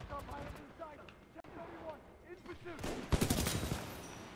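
Gunfire from a weapon in the video game Titanfall 2, a dense burst of rapid shots growing louder near the end, layered with game sounds and someone talking over it.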